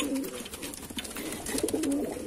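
Kalanka Madrasi tippler pigeons cooing nearby, a couple of low soft throaty coos over faint background noise.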